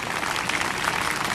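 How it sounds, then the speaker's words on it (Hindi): Loud, steady applause from a church congregation at a Hindi-language worship service, a dense wash of many hands clapping continuously with no pauses and no voices standing out. "तालियां बजाओ यीशु के नाम पे,"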